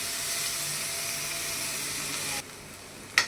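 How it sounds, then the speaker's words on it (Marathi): Onions sautéing in a pan give off a steady close sizzling hiss that drops suddenly partway, followed by a brief clink. "चला मी आता कांद्याला भाजून घेते."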